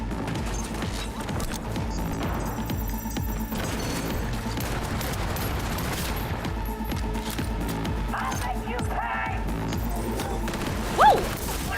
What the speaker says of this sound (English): How dare you shoot me?